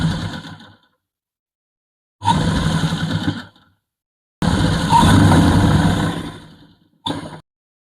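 A sewing machine runs in three bursts of steady whirring, stitching a blouse border to border, with silent pauses between runs and a short final burst.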